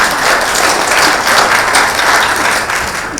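A conference audience at a regional Asia-Pacific urban food policy meeting in Bangkok applauds the city's governor, a loud, dense, sustained roll of many hands clapping with no speech over it.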